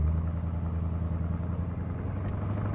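A 1957 Ford Thunderbird cruising with a steady, low engine rumble and road noise, even and continuous throughout at close range with no talking.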